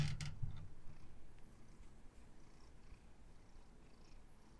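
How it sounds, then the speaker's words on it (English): A cat purring, a low continuous rumbling purr close by, with a few brief sharp clicks at the start and a quiet steady purr throughout. "Cat showing up asking for food again."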